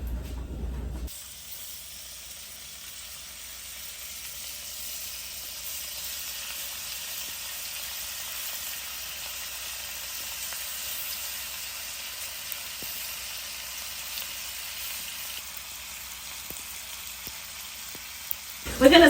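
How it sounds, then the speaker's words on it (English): Steak bites sear in a hot pan with oil and butter, giving a continuous, even sizzle and hiss that holds steady at a moderate level throughout. "Add some oil because we're gonna be searing our steak bites."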